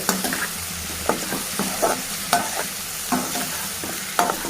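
Fried rice with potato, garlic and peas is stirred in a hot pan: a steady sizzle broken by rhythmic scraping strokes about every half second, close and fairly loud.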